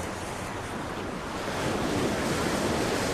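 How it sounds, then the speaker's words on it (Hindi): Ocean waves surge in a continuous, steady wash of surf with wind noise, loud and close, swelling slightly halfway through, with no voices. "सागर की लहरें आपको मस्त बना रही हैं।"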